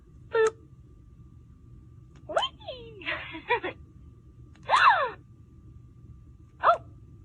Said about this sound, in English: Like a gasping sound.